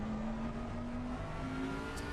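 Bentley GT3 race car engine in a racing video game, a steady sustained drone at constant pitch with a brief dip, moderately loud and continuous, no talking.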